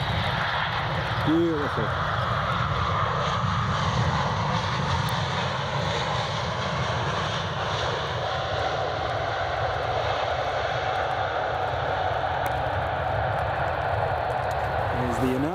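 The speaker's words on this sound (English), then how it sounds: "Next Ryanair coming in." A Ryanair airliner comes in to land at Edinburgh Airport, its engine roar loud and steady throughout, with a brief spoken remark from a nearby voice.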